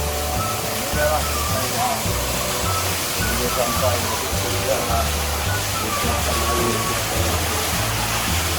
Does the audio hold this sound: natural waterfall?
yes